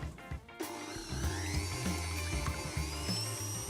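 Electric whisk beating egg whites to stiff peaks for a sweet dessert, a steady motorised whirr with a low pulsing hum that starts after a brief pause and runs continuously, close and fairly loud.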